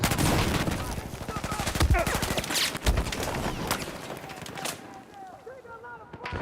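Gunfire in Battlefield 4 on PC, rapid automatic bursts crackling densely and loud at first, then thinning out with a few sharp single shots, with talking heard beneath the shooting.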